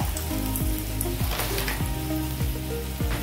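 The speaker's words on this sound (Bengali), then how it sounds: "শুকনো লঙ্কাটা একটু জাস্ট 1 মিনিটের মতন একটু ভেজে নেব" Dried red chillies frying in a little oil in a pan, a steady close sizzle with crackling and a few light clinks of a spoon, no talking.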